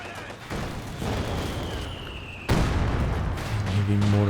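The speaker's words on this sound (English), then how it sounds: "Heavy mortar missing that first shot" Heavy mortar fire in the Company of Heroes video game gives deep booming blasts under a continuous game soundscape, with a sharp louder impact midway and rumbling bass afterward, mixed with commentary.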